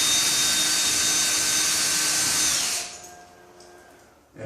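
Power drill whining loudly and steadily at close range while backing out ceiling fan bracket screws, then spinning down and stopping.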